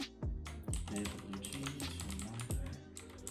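Fast keystrokes tapping out a project name on a computer keyboard while setting up a new project window in Autodesk Maya, close and clear with a few heavier key thumps.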